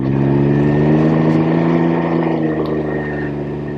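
A Can-Am Ryker three-wheeler's engine roars loud and close, a steady throaty drone that holds high before easing slightly toward the end.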